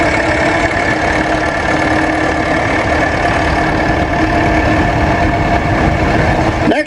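A 1960 Massey Harris 88 diesel tractor runs steadily nearby at an outdoor show, giving a loud, continuous rumbling idle with a rhythmic knock throughout.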